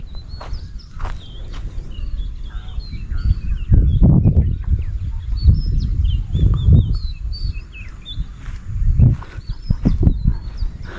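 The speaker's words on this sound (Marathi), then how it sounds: "आणि पक्ष्यांची किलबिलाट आत्ताही ऐकायला येते." Birds chirp and tweet in short repeated calls around a rural farm plot with a mountain view, fairly faint over low rustling and thumping movement noises nearby.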